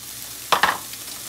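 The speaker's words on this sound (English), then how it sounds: "I'm gonna go ahead and put the egg and the shrimp." Egg and shrimp drop into rice frying in a pan for a keto meal, giving a short double burst of sizzle and clatter that settles back into a low, steady frying hiss.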